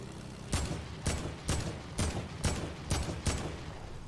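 Gunfire in the Fortnite video game: seven sharp, evenly spaced shots about half a second apart, each a loud broadband crack with a short tail, and no talking.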